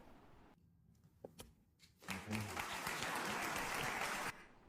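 A few scattered claps and light taps, then a burst of dense TV studio audience applause on Bill Maher's show that holds steady for about two seconds before cutting off.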